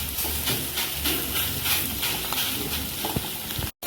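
Mussels fry in hot oil in a pan while being cooked for a masala roast, giving a steady, continuous sizzle and hiss close by for the whole stretch, with no talking.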